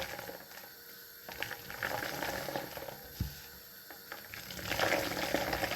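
Homemade soy milk is strained and poured close by, a soft splashing flow with gurgles and a few light clinks, growing fuller toward the end.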